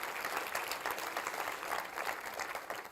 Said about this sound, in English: And that's actually an applause for you.